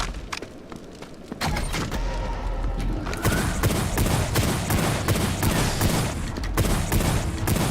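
Shotgun secondary fire in the game Wrath: Aeon of Ruin, a burst of ricochet explosions: loud, dense volleys of booming blasts and thuds in quick succession, continuous after a brief quieter opening.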